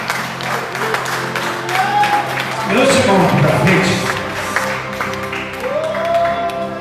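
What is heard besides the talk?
congregation clapping in praise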